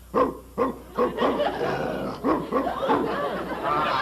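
Voice actor someone imitates a big dog's barking, a run of deep, throaty woofs in quick bursts, close and fairly loud.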